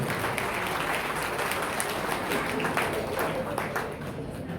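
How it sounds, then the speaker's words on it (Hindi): Steady, dense applause from a seated crowd at a community association gathering continues without a break and fades slightly toward the end. "तालियों से अभिनंदन कीजिए"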